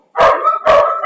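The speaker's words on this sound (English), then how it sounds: "There's the dog." A dog barks near the microphone in an indoor setting, giving two loud, drawn-out barks with a third starting at the end, separated by short pauses.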